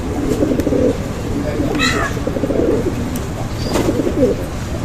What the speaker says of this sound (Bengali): নরে যে ডাকতেছে দেখেন নর কিন্তু সারাক্ষণ ডাকতে ডেকেই চলতেছে